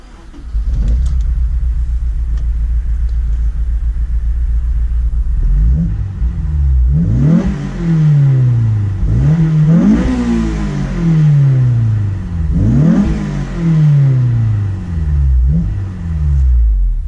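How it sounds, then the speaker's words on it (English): A Honda S2000 with 133K miles and a Tanabe aftermarket exhaust idles steadily, then gets several sharp throttle blips that climb and fall back, each rev loud and close with a deep rumbling exhaust note. "let's go ahead and show you guys some revs of the Tanabe exhaust"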